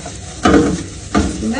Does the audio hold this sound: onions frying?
yes